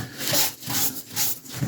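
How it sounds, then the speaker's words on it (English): Hand sanding on a 1/3 scale Juggernaut model figure: close, rhythmic back-and-forth rubbing strokes, about five passes in quick succession with brief gaps between them. "I need to do a little sanding."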